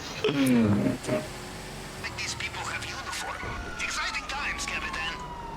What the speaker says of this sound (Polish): Kurwa, ile policji tu jedzie.